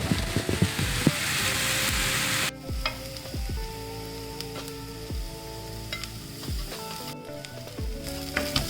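Shah jeera cumin seeds sizzling in hot oil, a bright dense crackle that drops sharply after a couple of seconds, then quieter frying under background music with periodic stirring clicks.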